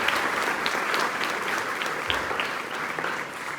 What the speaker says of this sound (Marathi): तर ज्यानं मूर्ती ही बनवली त्याच्यासाठी छान टाळ्या वाजवा